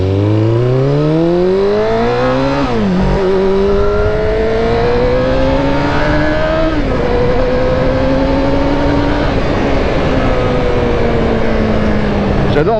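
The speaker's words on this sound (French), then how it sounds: "J'adore vraiment les accélérations avec cette machine parce que bien qu'on ne roule pas si vite que ça, les sensations avec la prise de tour, les vibrations et la sonorité" A motorbike engine revs hard through repeated accelerations, its pitch climbing steadily and then dropping with each gear change, loud and close throughout, with no voice over the sound.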